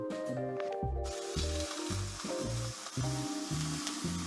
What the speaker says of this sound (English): Okay, sausage in the pan.